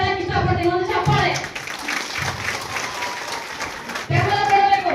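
An audience at a farmers' association installation ceremony in Vijayapura claps steadily for several seconds as a broad crowd patter, with a speaker's voice over it at the start and end.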